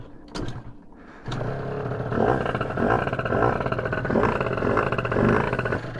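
A race moped engine gets a couple of quick kickstart strokes, then catches and settles into a loud, throbbing idle as it warms up, close by.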